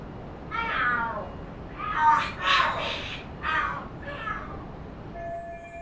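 Cats fight and scream in the video game Lost Judgment, a run of drawn-out yowling wails rising and falling over about four seconds, moderately loud against quiet background hiss, with no talk.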